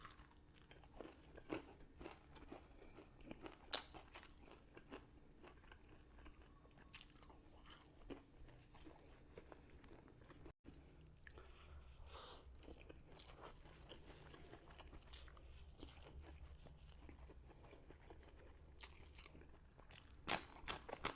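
Close, crisp crunching and biting of crispy pork belly (moo krob) being chewed with rice, a steady run of crackly bites and chewing throughout, with no talking.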